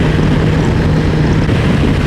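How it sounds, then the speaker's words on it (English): Four-cylinder engine of a BMW S1000XR sport touring motorcycle while riding on the road, a steady loud drone with heavy wind rush over it throughout, and no talk. "That's the beauty of a nice 4-cylinder sports bike engine."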